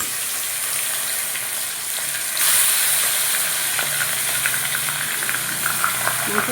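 Meat sautéing in hot oil in a pan, a steady close sizzle that grows louder partway through, with faint stirring scrapes and no talk.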